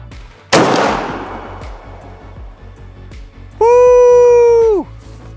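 A turkey shotgun fires a single 3.5-inch TSS shell: one sharp, loud close blast with a long fading outdoor tail, followed moments later by a held whooping shout from a person nearby.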